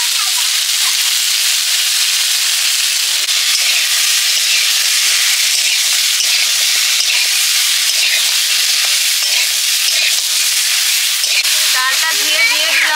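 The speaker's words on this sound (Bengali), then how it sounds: "পুরাটা আর ফুলকপি ভেজে নিচ্ছি একটু" Cauliflower pieces sizzle steadily in hot oil in a pan, a loud, continuous hiss with the crackle of frying. Near the end there is faint stirring and some light background noise.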